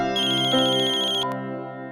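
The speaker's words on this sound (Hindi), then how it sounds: "मेरा फोन कहाँ है? अरे आवाज यहीं से आ रही है तो यहीं कहीं होगा।" A mobile phone rings out loud and close with a bright, repeating electronic melody that cuts off abruptly after under two seconds.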